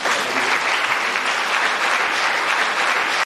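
Dense audience applause fills a public conference hall on peace and national reconciliation in Côte d'Ivoire, clapping for students of Yamoussoukro, steady and loud throughout before cutting off abruptly at the end.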